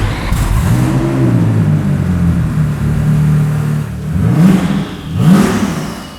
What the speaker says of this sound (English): this was one of the first times anyone outside the company had heard its Turbo 6 fired up